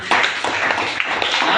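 A church congregation claps for Jesus, a brief burst of many hands striking at once, close and fairly loud, with a quick uneven rhythm.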